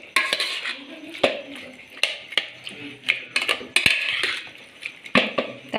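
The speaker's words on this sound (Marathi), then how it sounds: "तर भाज्यांना असं मी थोडंसं असं हटवून घेणार आहे, म्हणजे खूप जास्त पण पेस्ट करून घ्यायच्या नाही भाज्या" A metal utensil lightly mashes cooked vegetables in a pan, producing irregular scraping, clinking and soft squishing strokes at close range, with occasional sharp taps against the pan.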